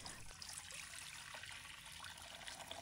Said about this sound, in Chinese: 接着倒入开水